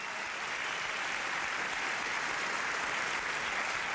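Spectators at the 2007 Swiss Super Series men's singles badminton final applaud in a steady, even wash of clapping. It is fairly soft and distant, with no talk over it.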